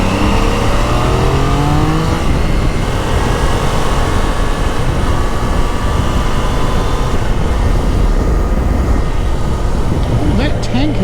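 Triumph motorcycle engine, a Daytona 660 or Scrambler 400, running loud and steady throughout with rising and falling revs as gears change, heavy wind rush over the top and faint talk underneath.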